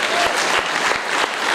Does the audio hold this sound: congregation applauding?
yes